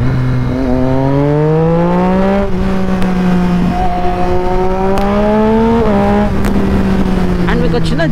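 Motorcycle pulling hard at full throttle, engine note climbing then dropping at each of several quick gear shifts, loud and close with wind rush throughout.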